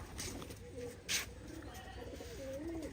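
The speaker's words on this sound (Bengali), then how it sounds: "একটা দুবাস কবুতর বসে আছে" A pigeon coos softly at a pigeon farm, a few low rolling coos against steady background hiss, with a brief louder rustle midway.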